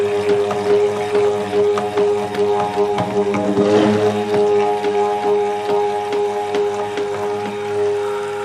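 A stick blender whirs steadily through mermaid soap batter, its motor hum holding a constant pitch with faint squishy churning throughout.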